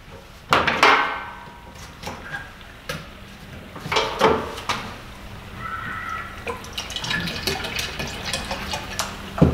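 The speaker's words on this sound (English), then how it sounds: "Fill it up the rest of the way with water" Water running into a pump sprayer tank mixed with weed-killing soil sterilizer and surfactant, close splashes and drips broken by sharp plastic knocks and clunks of handling the container.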